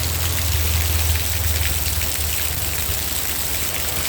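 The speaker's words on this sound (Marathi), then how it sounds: "कारण पाऊस खूप वेळपासून पडतो आहे कमीच होत नाही आहे" Heavy monsoon rain in Worli, Mumbai pours down steadily, a dense hiss of drops hitting surfaces, with a low rumbling undertone and no voices.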